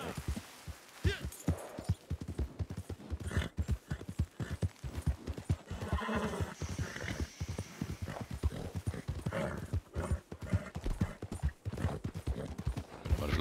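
Horse hooves clip-clop steadily in a rapid, even rhythm in the Red Dead Redemption 2 online video game, a continuous moderate trot heard without speech.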